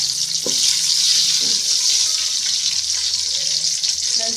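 Curry leaves hit hot oil already holding mustard and cumin seeds while cooking ridge gourd palya, giving a steady, loud, close sizzle with a few sharp crackles throughout.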